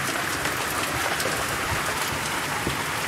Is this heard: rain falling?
yes